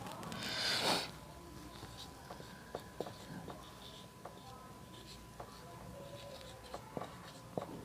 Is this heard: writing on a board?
yes